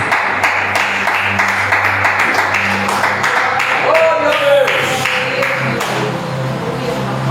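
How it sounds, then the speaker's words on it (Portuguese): A church congregation applauds during a worship service, a dense, sustained patter of many hands clapping together, with faint sustained tones in the background. "Aplauda ao Senhor Jesus"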